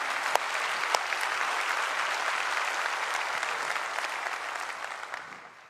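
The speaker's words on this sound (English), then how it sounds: "Now that deserves a round of applause" An audience applauds county employees at the Orange County State of the County address, a steady dense wash of many hands clapping that holds for several seconds and then gradually fades near the end, with no voices over it.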